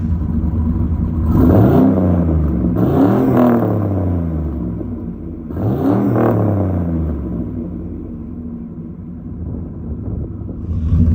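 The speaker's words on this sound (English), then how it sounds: "Let's do a rev test." A car fitted with a Flashark electric exhaust cutout, still closed, revs in three separate throaty bursts that rise and fall back to a close, rumbling idle between them.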